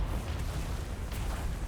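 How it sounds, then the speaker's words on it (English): Cannon fire in World of Warcraft's Freehold dungeon rumbles as a dense, continuous barrage of booming explosions, loud and close, with no clear gaps between blasts. "Cannons! Blast these scurvy dogs to bits!"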